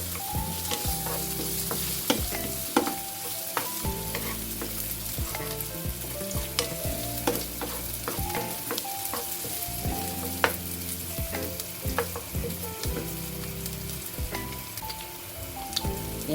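Cherry tomatoes sizzle and fry in a pan while being stirred, steady crackling frying with repeated scraping and stirring clicks throughout, close and fairly loud, no talking.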